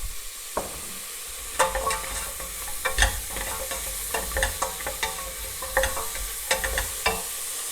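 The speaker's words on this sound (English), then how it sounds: "So in goes the butternut squash." Butternut squash fries in an outdoor pan, sizzling steadily while a utensil scrapes and stirs in repeated sharp, close clatters with a forest setting around.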